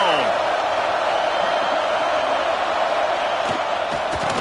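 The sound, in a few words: football stadium crowd cheering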